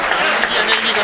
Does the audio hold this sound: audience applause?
yes